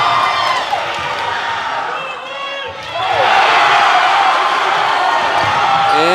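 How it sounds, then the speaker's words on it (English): Crowd roaring and cheering loudly at a boys high school basketball game after a game-tying basket, a sustained wall of noise that dips briefly then surges back, with shouts and whoops mixed in and a commentator talking over it. "as you hear the crowd go wild, we have a tie game after that bucket from Stewart"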